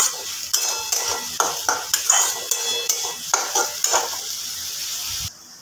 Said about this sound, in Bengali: এবার একটু ভালো করে নাড়াচাড়া করে নেব।